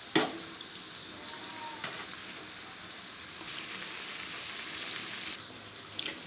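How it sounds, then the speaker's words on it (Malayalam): Potato vadas deep frying in hot oil, a steady close bubbling sizzle with a few sharper pops and utensil clicks, no talking. "നമുക്ക് ഓരോന്നായിട്ട് ഫ്രൈ ചെയ്തെടുക്കാം"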